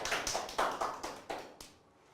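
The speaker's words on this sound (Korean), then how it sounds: "박수 한번 주세요." A handful of sharp claps at a Korean lecture on toast-making, spaced unevenly at first and then in a quicker burst before fading into quiet.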